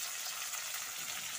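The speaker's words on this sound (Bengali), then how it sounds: "প্রথমে আমি পেঁয়াজ আলুগুলো ভাজবো।" Onions and potatoes frying in a pan, a steady close hiss and sizzle without a break.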